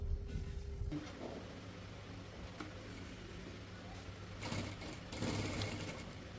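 Sewing machine stitching a ban collar on a readymade-style kurti, a soft steady mechanical whir with faint ticking under low background noise, a couple of louder handling rustles near the end.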